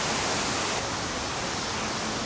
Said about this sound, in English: Just beautiful waterfalls over here.